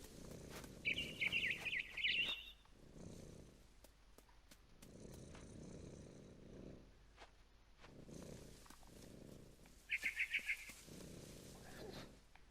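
In the video game What Remains of Edith Finch, a barn swallow outside a window gives two short bursts of quick high chirps, far apart, over a soft, steady low purring rumble.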